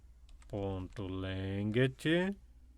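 Computer keyboard keys tapped while writing backup script code for a Google Sheets form table, the close typing running beneath a person talking throughout.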